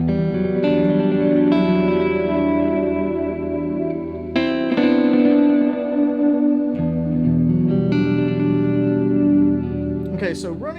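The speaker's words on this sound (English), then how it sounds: "With the toe all the way down, it's a ton of delay." An electric guitar played through a delay pedal with the toe fully down, plus light modulation, rings out with a heavy wash of echoing repeats trailing behind sustained notes and chords.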